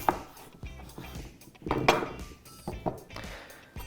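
A knife cuts carrot, onion and potato into large chunks on a board, giving irregular woody knocks and thuds in a short uneven run.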